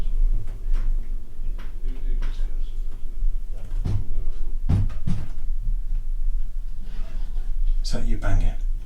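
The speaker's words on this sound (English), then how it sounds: "Stop banging the door." Someone bangs on a door during a night ghost hunt: irregular dull thuds and knocks, some near and loud, scattered among voices talking.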